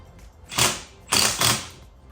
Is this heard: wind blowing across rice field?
no